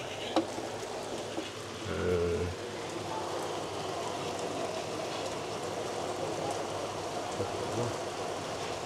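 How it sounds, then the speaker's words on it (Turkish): Heavy rain and hail fall in a steady, dense outdoor hiss with scattered small impacts, moderately loud and constant, with a brief low rumble and faint voices in the background. "sağanak yağmur başladı. Dolu yağıyor baya."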